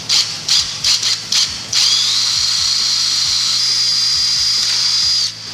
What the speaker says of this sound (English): I'm going to start with a 1/8 inch drill bit and make a little pilot hole for each of these